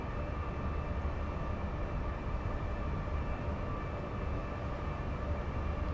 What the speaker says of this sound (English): Hello, train. That was a train.